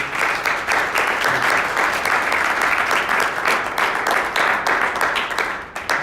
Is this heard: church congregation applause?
yes